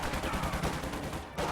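Automatic gunfire bursts from a real-time strategy game, aimed at the rear armor of an M3 vehicle during a busy battle, forming a dense rapid rattle of shots that runs the whole time with no talk.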